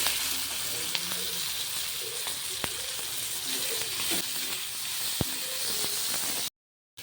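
Tomatoes and salt hiss in a hot pan for pasta, a steady close sizzle with occasional sharp pops and crackles and faint background tones, cutting off abruptly near the end.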